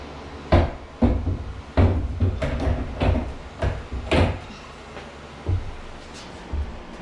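A modern sliding barn door on an overhead hanger in a bathroom rolls and knocks, a series of wooden thuds and rumbling slides repeating every second or so, close and moderately loud.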